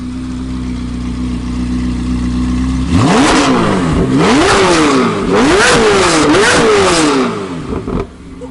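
A Corvette C8 Z06 with open equal-length headers idles steadily, then revs hard several times in a row, each loud, high-pitched blip rising and falling close by before settling back.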